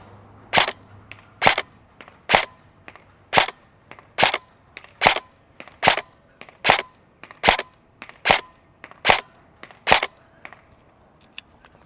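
Barrett REC7 DI AEG airsoft rifle firing single shots, heard as about a dozen sharp, evenly spaced cracks at roughly one per second, loud and close, with faint target impacts between shots and no talking.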